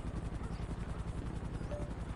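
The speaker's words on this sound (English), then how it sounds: "Helicopter overhead." Helicopter from the video game GTA flying overhead, a steady low rotor thrum with rhythmic pulsing, fairly faint and continuous throughout.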